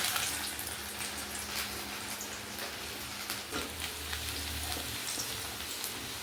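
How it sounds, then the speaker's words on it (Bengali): Chopped garlic and ginger sizzle in hot oil for chili chicken, a steady crackling hiss like light rain with a low hum beneath, close and fairly quiet throughout. "এখানে হচ্ছে রসুন কুচি আর এখানে আছে আদা কুচি এটা দিয়ে দিচ্ছে যে তেলের মধ্যে"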